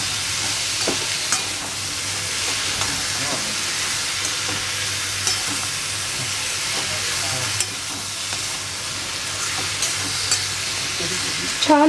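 Raw mango pickle mixture sautéing in a pan for a sweet-sour kairi pickle, giving a steady close sizzle with scraping and stirring clatter across the whole stretch and no talk.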